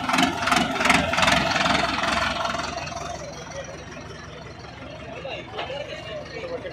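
A new tractor's engine runs at a tochan pulling contest between Sonalika and Farmtrac tractors, a steady low rumble, louder in the first seconds and then easing, with crowd noise and voices mixed in.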